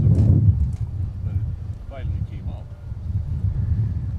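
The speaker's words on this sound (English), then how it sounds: "So you can also probably hear it in the background too. It's a little bit breezy today." Breezy spring wind buffets the microphone at an airport plane-spotting spot, a steady low rumble with gusts swelling and easing throughout, while a voice talks faintly over it.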